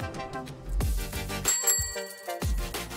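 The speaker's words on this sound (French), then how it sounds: "Notre coup de sonnette" A bicycle bell rings several times in quick succession, bright metallic dings with ringing overtones, close and clear with no talking.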